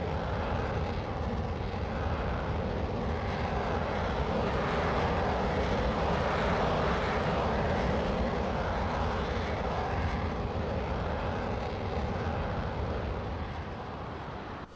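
A Panavia Tornado jet roars steadily through its takeoff in the flight simulator MSFS 2024, a loud, continuous broadband engine rumble that holds throughout before easing slightly at the end.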